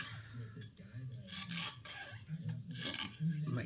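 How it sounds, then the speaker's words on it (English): Steady back-and-forth rasping of a file rounding the edges of a metal hairclip, close and quiet, in uneven strokes with brief pauses. "I'm just going to round off the edges a little bit."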